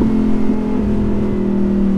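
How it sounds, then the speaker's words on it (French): A Lamborghini Huracan EVO RWD Spyder with a naturally aspirated V10 holds a loud, steady engine drone close by, a sustained rev with a strong low hum and no talk. "avec un gros V10 atmosphérique qui font un bordel comme ça, direct d'origine de l'usine"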